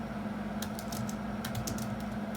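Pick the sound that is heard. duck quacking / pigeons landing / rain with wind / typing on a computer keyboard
typing on a computer keyboard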